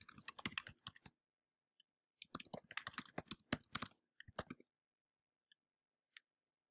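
Clicky keystrokes on a computer keyboard come in quick irregular bursts separated by pauses, ending with a few isolated taps, close and fairly quiet in an otherwise silent room.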